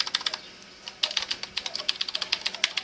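Typing on an Azio Cemato retro mechanical keyboard with blue switches produces sharp, clicky keystrokes in quick irregular bursts, close and fairly loud, with no speech over them.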